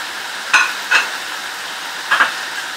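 Onion chicken frying with garam masala in a pan, a steady close sizzle with three short scraping bursts of stirring on top.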